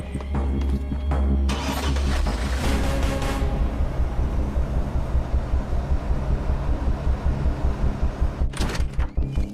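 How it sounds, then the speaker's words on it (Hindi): A car engine cranks and catches, then settles into a steady rumbling idle that continues close and loud, with a brief sharp noise near the end. "गाड़ी चालू कर।"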